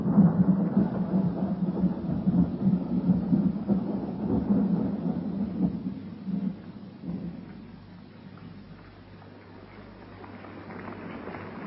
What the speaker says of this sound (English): There's going to be a storm.